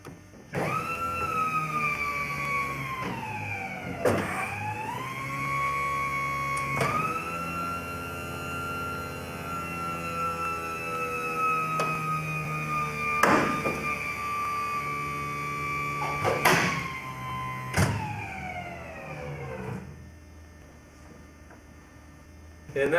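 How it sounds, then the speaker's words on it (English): A Stewart S-51D Mustang's main landing gear extends with a steady electric-motor whine that bends in pitch as the load changes, punctuated by several sharp clunks and clicks before winding down, heard close and continuous. "we're going to now put the landing gear down and show you what that looks like"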